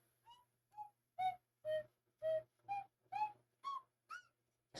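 A slide whistle plays a run of about nine short, separate pitched toots that slide up and down, each one clean and fairly close, with short silences between them and no talking.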